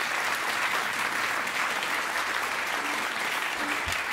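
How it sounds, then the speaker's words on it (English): Sustained audience applause at a jazz concert at the Bimhuis, a dense even patter of clapping from a crowd that continues steadily for several seconds. "So please give those two chaps sitting over there a round of applause."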